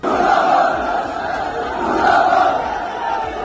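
A large crowd of protesters in Pakistan-occupied Kashmir chants slogans against the army and its chief, rhythmic shouted calls rising and falling in two loud waves, massed voices at a moderate distance.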